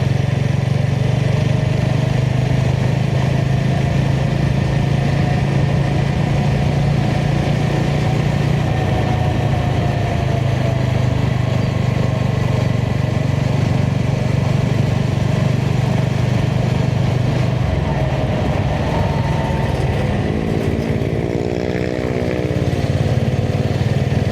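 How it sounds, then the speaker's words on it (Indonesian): A motorcycle engine idles close by as it warms up on a Sunday morning, a loud, steady low rumble that holds evenly throughout, with a brief shift in tone near the end. "Bisa manasin motor di tempat ini setiap weekend aja,"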